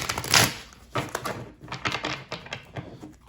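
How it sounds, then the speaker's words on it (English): Tarot cards being shuffled, a run of crisp papery riffles and taps in uneven bursts, close and fairly loud with no talk over it. "let's give it one more shuffle"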